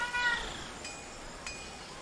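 A single cat gives a short, quiet meow indoors at the very start, followed by faint room ambience and light clinks.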